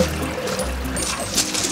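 Sewage water pours into the River Thames at Blackfriars Bridge, a loud continuous rushing gush with splashing texture, steady throughout with no talking.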